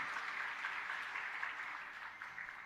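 A crowd claps steadily and densely throughout a Hindu religious story session, a continuous wash of applause with no talking.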